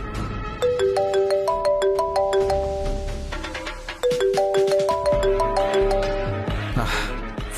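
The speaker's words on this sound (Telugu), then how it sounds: "ఫోన్ తీ రాధిక." A mobile phone ringtone plays loudly and clearly, a repeating electronic melody of bright stepped tones that restarts partway through.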